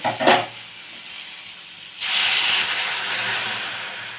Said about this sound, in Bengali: খুব সামান্য লবণ জাস্ট একটু নেড়ে আর জল দিয়ে দেব